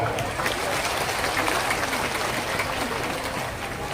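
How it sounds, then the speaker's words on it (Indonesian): A crowd at an Islamic sermon gathering in Lampung applauds, a dense continuous wash of clapping throughout with some voices blended in the background. "Tepuk tangan."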